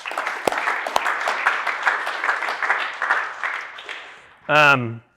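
Applause from an audience at a company all-team meeting, a steady mass of claps lasting about four seconds before fading out, then a single voice speaks briefly at the end.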